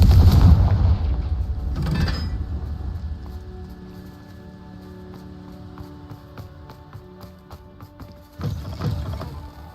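A Confringo explosive spell blast in Hogwarts Legacy, a loud booming burst at the start followed by a second blast, a quieter ringing tail with faint clicks, and another heavy boom near the end.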